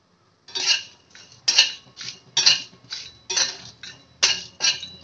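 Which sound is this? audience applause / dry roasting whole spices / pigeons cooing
dry roasting whole spices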